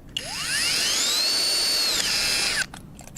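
A small power screwdriver or drill whines steadily for about two and a half seconds, rising in pitch as it spins up, while removing screws during disassembly of a P100 gyro, close and loud with no talking.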